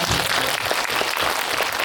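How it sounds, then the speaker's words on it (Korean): Dense audience applause fills a short burst at a Korean film screening Q&A, a thick steady clatter of many hands with no speech over it. "박수 한번 부탁드립니다"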